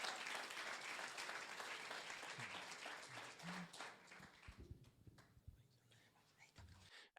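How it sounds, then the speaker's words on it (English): Audience applause for the next speaker at a mental health event, a quiet crowd clapping that fades out midway, leaving scattered low sounds and faint murmuring. "Please, a round of applause for our next speaker, Hein van Eck"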